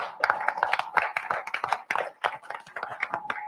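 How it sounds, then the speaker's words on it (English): Applause for new drivers at a live trucking company driver meeting, a steady round of many hands clapping close by, brisk and continuous with uneven claps throughout. "We'd like to give you a round of applause."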